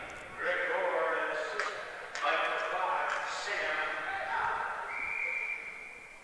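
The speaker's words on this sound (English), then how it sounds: "We'll have a whistle in the neutral zone." A referee's whistle sounds at a college ice hockey game between the High Point Panthers and the Wake Forest Demon Deacons, a short steady tone near the end heard over rink noise and crowd.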